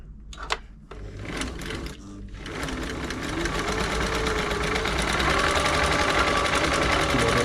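A Singer 507 sewing machine runs a short stitch, its rapid needle rhythm steadily building into a loud, continuous mechanical whir after a few hesitant starts.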